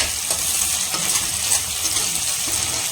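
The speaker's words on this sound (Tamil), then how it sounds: "நம்ம நேச்சுரல் கருவேப்பிலை சேர்த்தாச்சு. இப்போது அது வந்து படப்படன்னு பொரிய ஆரம்பிக்கும்" Curry leaves splutter in hot oil in a pan, a continuous dense crackle and hiss with scattered pops, steady and close throughout, with no talking.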